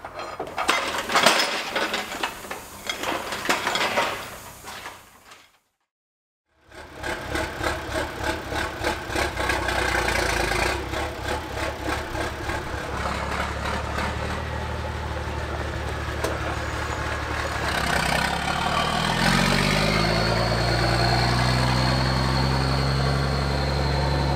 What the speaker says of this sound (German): Der LKW hört sich nur so beschissen an, weil er noch keinen Auspuff hat.